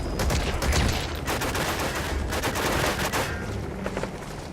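Heavy cover fire in Metal Gear Solid V: The Phantom Pain, a dense continuous fusillade of rapid machine gun and rifle shots with booming low rumble, loud and steady throughout with slight easing toward the end.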